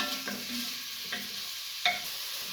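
Chopped streaky bacon sizzling in a pan for a Bolognese sauce while a spoon breaks it up, a constant crackling hiss broken by a few scraping stirs and one sharper clink near the end.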